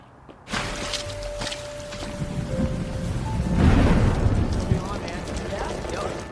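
Steady rain at a school in a film scene, a continuous hiss and patter throughout with a heavier swell midway, voices and other background sounds mixed in.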